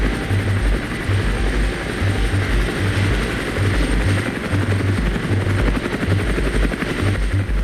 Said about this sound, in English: looks like our Mi-24 is engaging ground targets in town